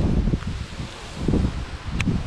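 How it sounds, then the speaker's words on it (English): Wind gusting through rustling leaves beside a small river on a very windy day, a steady close rush of rustle that swells and eases with each gust. "Super windy day."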